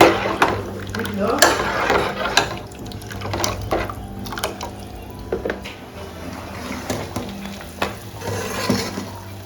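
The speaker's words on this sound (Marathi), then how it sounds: "चांगला उकळ आले आमटीला" Aamti curry boils in a pot with fish-head pieces nearby: close bubbling and liquid churning with occasional stirring clinks, continuous and moderately loud.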